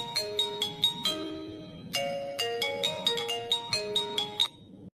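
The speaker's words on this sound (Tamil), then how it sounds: "இந்த நேரத்தில் எனக்கு எவ வேற ஃபோன் பண்ணுறவ?" A mobile phone ringtone plays a bright, repeating melodic chime pattern, loud and close, running for about five seconds with no voices over it.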